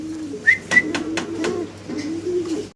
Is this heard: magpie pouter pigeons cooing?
yes